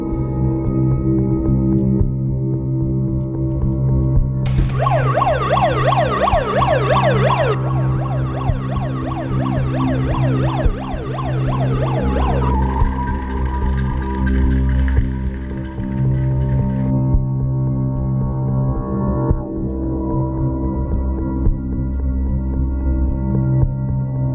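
An ambulance siren wails with a fast rising-and-falling pattern for a few seconds over a low rumble and steady background music.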